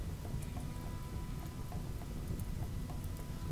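Steady rain from a flash storm in the colony-building game RimWorld, a dense, even hiss with faint scattered drops, heard alone and at moderate level throughout.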